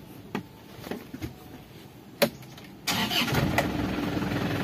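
An Isuzu Panther after clutch repair: a few clicks and a sharp knock, then the engine cranks and catches into a steady rough idle, close and moderately loud, no talking.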